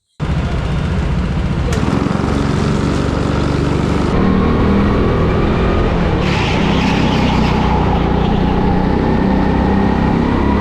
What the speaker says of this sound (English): We'd been sat in the pits for quite some time though now, with all the engines running and getting rather hot.